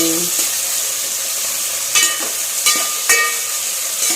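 Onions frying in a pan as they are added, a steady close sizzle with a few brief clinks and stirring scrapes, no talk.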